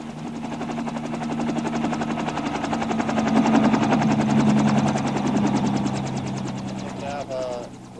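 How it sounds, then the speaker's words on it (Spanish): Helicopter rotors chop in a fast, steady beat as the aircraft descend over a village during the Vietnam War, swelling slightly louder midway, with a narrator speaking over the engine drone. "los helicópteros descendían por sorpresa sobre aldeas sospechosas"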